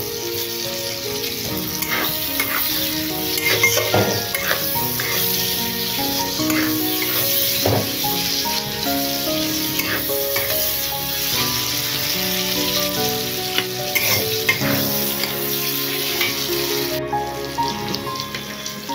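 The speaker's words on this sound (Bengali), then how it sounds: "এরপর গরম তেলে দিয়ে দেবো পেঁয়াজ কুচি, পেঁয়াজটাকে ভেজে নেব।" Chopped onion frying in hot oil after potatoes were browned, a continuous crackling sizzle close up with scattered clicks and scrapes of stirring and utensils, no talking.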